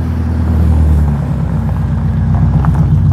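A car exhaust idling up close: a loud, steady low rumble with even pulsing and no voices.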